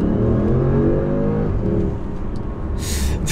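An APR Stage 3 tuned Audi S6 twin-turbo with stock downpipes accelerates hard, its loud, steady engine roar rising in pitch and filling the scene close up before easing slightly near the end.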